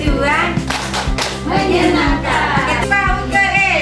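Children at an elementary school event clap their hands in a rhythmic, patterned beat, close and loud, while young voices chant along over the claps.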